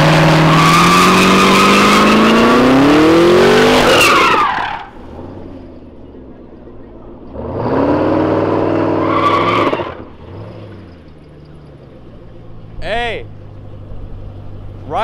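A Camaro ZL1 doing donuts gives out loud bursts of engine roar mixed with screeching tire skids, three separate passes with quieter gaps between them, and people talking in the quiet stretches.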